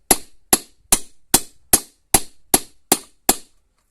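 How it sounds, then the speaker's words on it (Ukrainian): A hammer's wide face peening a scythe blade, nine sharp metallic strikes at an even, steady pace, loud and close with short ringing decays and no voices. "я клепаю завжди широкою частиною молотка"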